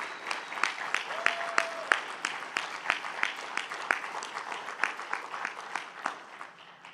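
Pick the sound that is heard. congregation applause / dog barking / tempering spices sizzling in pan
congregation applause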